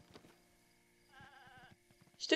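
A goat bleats in The Legend of Zelda: Breath of the Wild, a short wavering cry over quiet game ambience and soft background voices.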